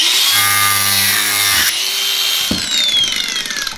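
An angle grinder cuts into wood, a loud high whining drone that drops in pitch under load, then stops and winds down into scraping and rattling.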